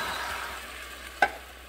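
Water poured into a hot pan of smoked sausage and rice gives a steady, close sizzle and hiss, with one brief sharper splash or pop near the end.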